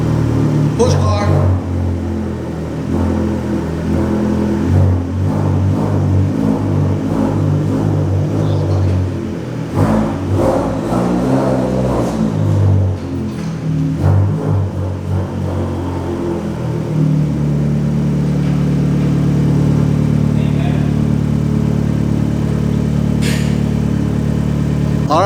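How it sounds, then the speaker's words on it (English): A Fiat 500 Abarth engine with a modified exhaust idles and revs repeatedly close by, rising and falling in pitch, then settles into a steady rumble near the end. "as I'm sure you can hear, Josh is bringing out the Abarth."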